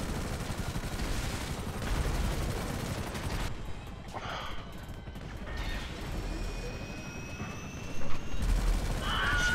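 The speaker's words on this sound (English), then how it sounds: "That helicopter looks like it's going down." Helicopter rotor drone and scattered gunfire fill a GTA V Online multiplayer battle, with steady rumbling noise and occasional sharp bursts.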